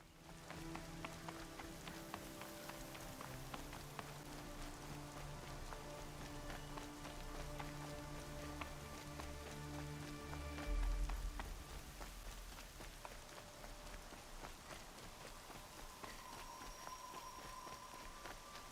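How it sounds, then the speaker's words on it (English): Rain pours steadily in Horizon Zero Dawn, a dense, even hiss lasting throughout, with faint footsteps and a brief low thump partway through; no one speaks. "Great, it's raining."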